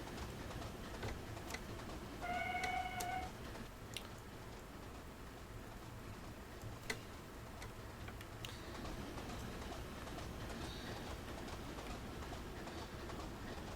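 A freight train in the Railworks simulator, made up of coal wagons and tankers on a Weardale branch line, rumbles along with faint rhythmic clicking and a brief whistle-like tone, fairly quiet and steady with no voices.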